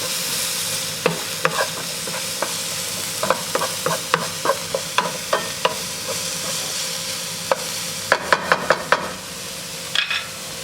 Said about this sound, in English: I'll put in a teaspoon of garlic. I'll stir that around.